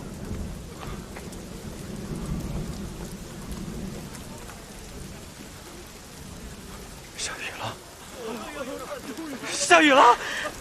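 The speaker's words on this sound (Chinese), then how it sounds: "下雨了！" Rain falls with rolling thunder in a drama scene where long-awaited rain breaks a months-long drought over a port town; a low steady rumble carries throughout, with the rain's hiss swelling into louder bursts near the end and faint background voices.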